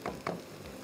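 Tomatoes hit hot tandoori masala in a pan with two short sizzling bursts, a soft frying hiss continuing between them.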